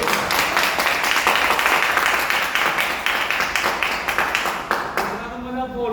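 Audience at a Hindi motivational talk clapping loudly and steadily for several seconds, dense overlapping claps that thin out and stop near the end.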